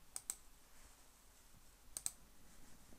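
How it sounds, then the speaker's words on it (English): Computer mouse clicks on a desk, two quick pairs of faint, crisp double clicks about two seconds apart over quiet room tone. "if I right click here"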